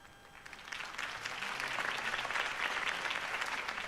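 A crowd applauds in the Batman Telltale game during a mayoral campaign event, steady clapping that swells after a quiet start and holds loud and dense to the end.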